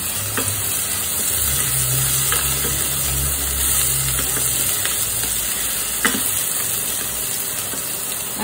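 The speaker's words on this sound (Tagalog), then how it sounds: "Ngayon, lagay natin yung sibuyas." Onions sizzle in a hot pan for spaghetti sauce, a steady frying hiss broken by occasional scraping and stirring clicks, close and unaccompanied by speech.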